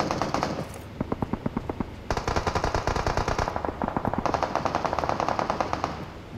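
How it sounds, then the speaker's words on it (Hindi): Dense automatic gunfire from a PUBG Mobile match, rapid bursts of machine-gun shots crackling almost continuously, loud and close with brief pauses between volleys. "भाई बहुत गोलियां चल रही हैं यार।"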